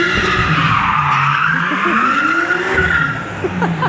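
A Mitsubishi Evo 8 spins donuts, its tires screeching in a long, loud, continuous skid over a revving engine whose pitch rises and falls, close by throughout.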